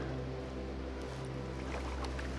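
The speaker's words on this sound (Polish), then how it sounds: "w oddali słychać szum wody, więc zakładam, że jest tu jakiś jaz" Steady low rushing noise of water pouring over a weir on the Rurzyca river, fairly continuous and broad, heard at a distance with no voices.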